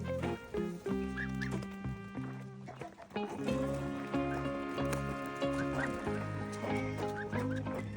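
Goslings on a farm give high, repeated peeping calls close by, layered and overlapping in a busy chorus that keeps going throughout.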